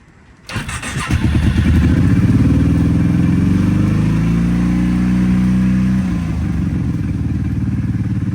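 A Kawasaki KFX 700 ATV engine on full choke cranks briefly, then catches and runs loud and close with a steady rough idle, holding high before the note settles slightly lower near the end.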